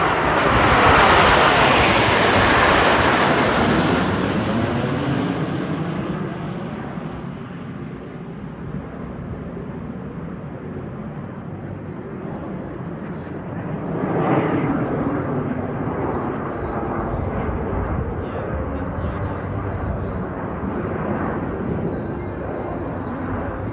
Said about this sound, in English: Snowbirds 1 through 7 will switch to big wedge into big aero loop